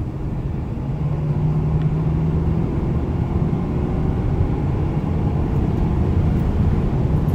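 A 2018 Ford F-350 6.7 Power Stroke diesel pickup engine rumbles steadily and loudly, holding a deep, continuous drone with slight swells in pitch, close by and without any talking.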